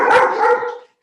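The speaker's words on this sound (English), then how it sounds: "For once, it's not my dogs barking." A single dog bark, loud and close, one short burst with a slight double pulse that cuts off cleanly into silence.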